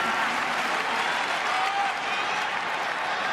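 A large arena crowd at a New Japan Pro-Wrestling event applauds as both wrestlers lie down in the ring. The clapping is a steady, continuous roar heard from a distance, with no pauses.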